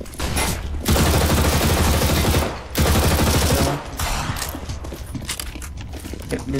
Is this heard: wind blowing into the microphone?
no